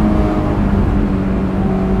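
A stock 2005 Honda S2000 AP2 engine revs steadily and loudly through crisp downshifts, a dense continuous drone with engine harmonics and no talk.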